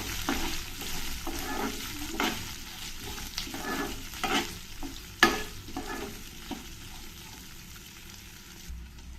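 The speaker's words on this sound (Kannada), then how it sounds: "ಈರುಳ್ಳಿ ಕೆಂಪಾಗೋವರೆಗೂ ಒಂದು ಸ್ವಲ್ಪ ಇದನ್ನು ಫ್ರೈ ಮಾಡ್ಕೊಳ್ತೀನಿ" Onions fry in a pan and are stirred, giving a steady sizzle under repeated scraping strokes of the spoon against the metal, close and moderately loud.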